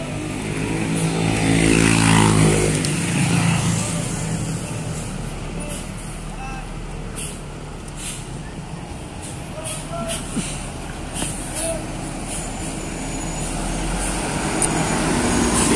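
Metropolitan buses pull away one after another, a loud, near engine rumble swelling early and then settling into a steady drone with faint traffic noise throughout.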